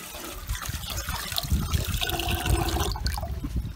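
Water pours into a pot for cooking rice in a Sri Lankan family kitchen at a restaurant in Ella, a steady close trickle and splash running through the whole stretch with no voices.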